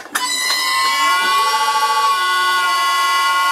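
A restored old lathe takes a cut at 300 RPM, giving a loud, steady, high-pitched ringing squeal with a metallic edge that holds without a break from start to finish, with no voices.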